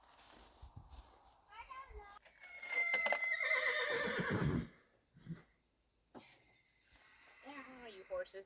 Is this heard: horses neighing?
yes